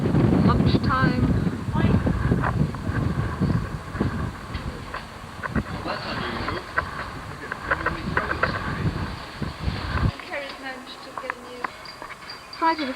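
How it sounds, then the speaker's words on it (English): Wind blowing at a sailing boat race in 1991, a gusty rushing buffet across the microphone with rumbling noise, while someone talks over it. "It's getting quite windy now."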